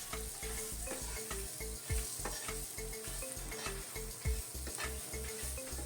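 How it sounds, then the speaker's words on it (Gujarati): Onions and chillies stirred and frying in a pan for a bitter gourd (karela) sabzi give a steady close sizzle with repeated spoon scrapes, carried over a constant rhythmic background throughout. "ડુંગળી અને મરચાં સારી રીતે મિક્સ કરી લઈશું"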